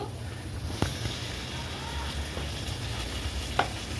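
Ginger paste and a tomato-onion paste for a fish curry fry on a wood-fire stove with a steady, close sizzle, and two sharp scraping clicks cut through it.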